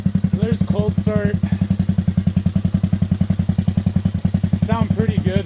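A Honda ATC three-wheeler engine fitted with a CRF 230 exhaust idles steadily close by, giving a rapid, even putter with a low thumping pulse, while someone talks briefly over it.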